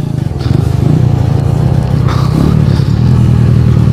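A 150–200cc motorcycle accelerates up close, its engine note climbing, dropping briefly as the clutch is pulled for the next gear, then rising again under a loud, steady drone.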